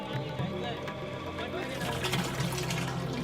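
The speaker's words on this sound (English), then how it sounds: "The water is finally flowing" Dirty, sewage-contaminated water runs steadily from a household tap, a continuous rushing, splashing flow heard close up, with faint voices mixed in.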